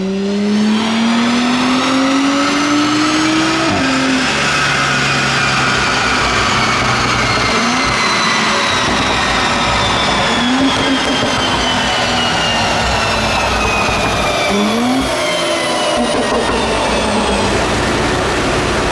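A Mercedes-AMG car on a dyno roars loudly and continuously, the engine pitch climbing steadily and dropping back at several gear changes before rising again.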